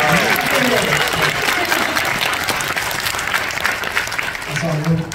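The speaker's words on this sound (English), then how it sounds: "round of applause for Beatrice, by the way." An audience at a fan convention panel breaks into dense, sustained applause that fills the room for several seconds, with voices and murmuring mixed in underneath.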